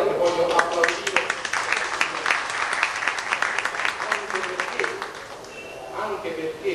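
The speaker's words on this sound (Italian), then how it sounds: "voglio applaudire" An audience at a meeting in Rome on excluded broadcasters applauds in dense, steady clapping that thins and fades toward the end as a voice comes in.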